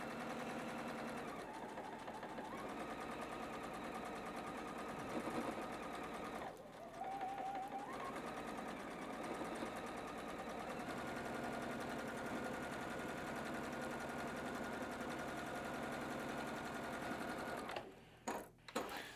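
Sewing machine stitching a quilt block, a continuous fast mechanical whir with brief pauses and shifts in speed, close and steady for most of the span before stopping near the end, with no speech.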